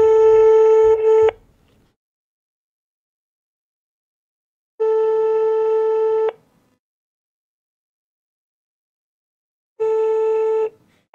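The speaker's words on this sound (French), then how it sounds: "essayer d'appeler Antoine" A telephone ringing tone on a prank call: three long electronic tones, each about a second and a half, separated by several seconds of silence, loud and clean.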